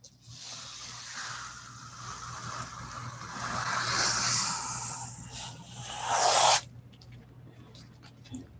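Heat transfer vinyl being peeled away with a weeding hook for a tote bag design, a soft continuous rasping hiss that swells and ends in a quick ripping tear, close and quiet with no talk.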